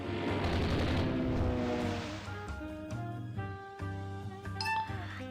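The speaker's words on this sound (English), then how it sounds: "Something else took a torpedo hit." A torpedo strikes a warship in the naval strategy game Rule the Waves 3, a loud layered blast with clinking, metallic debris followed by ringing tonal hits and further scattered impacts.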